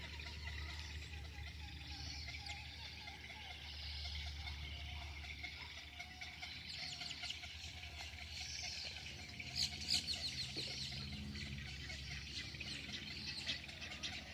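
Coots calling across open water in a wetland, with faint, thin chirps and peeps repeating at a distance over a low steady hum.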